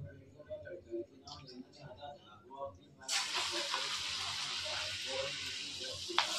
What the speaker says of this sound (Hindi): बस अब मैं इसको पकोड़े को फ्राई कर लेती हूँ